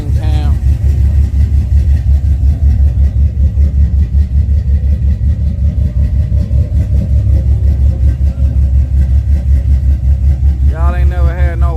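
A car engine with a lopey camshaft idles loud and close, a deep, uneven rumbling chop that stays steady throughout, with a brief voice at the start and end.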